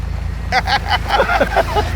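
Two trucks joined together idle in unison, a low, even engine rumble steady throughout, while people talk over it for most of the moment.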